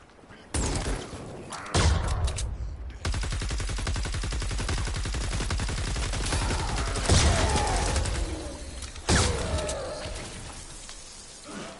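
Rapid bursts of gunfire from Fortnite, a sharp opening shot followed by a long sustained volley of fast repeated shots, with louder single cracks near the end, dense and close.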